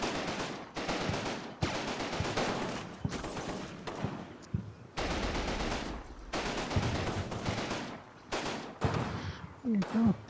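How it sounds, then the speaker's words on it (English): Heavy battlefield gunfire and explosive reports sound as rifle grenades are fired at a sniper team in the wartime strategy game Combat Mission, with dense bursts, sharp separate bangs and a low rumble. "it's just firing rifle grenades at the sniper team"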